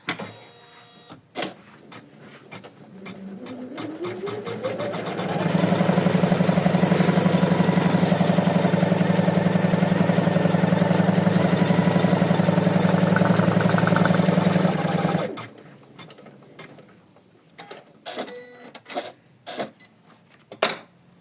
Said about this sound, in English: we can start stitching. So let's stitch the placement line.